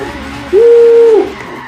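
A single sustained tire skid from a car drifting in Forza Horizon 3: a loud squeal of about a second rising out of a low engine hum.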